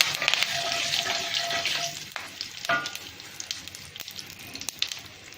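Asafoetida and curry leaves fry in hot oil for a South Indian potato roast, a bright crackling sizzle that starts loud, eases, then carries on with sharp pops and a stirring scrape or two.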